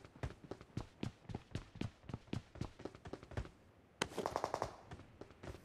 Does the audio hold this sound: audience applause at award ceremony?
no